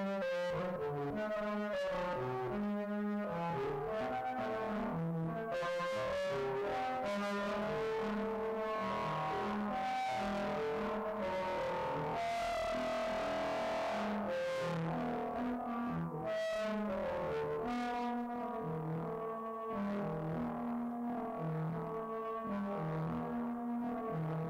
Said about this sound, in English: And then let's turn up the drive a bit. And let's apply some delay.